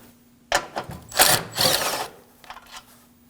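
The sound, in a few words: removing 10mm bolt on Honda Pilot battery duct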